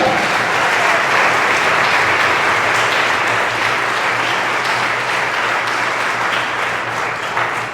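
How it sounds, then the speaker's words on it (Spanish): Sustained applause from a crowd at a wedding ceremony, loud and steady throughout, with dense clapping that fades only slightly at the end. "Démosle un fuerte aplauso."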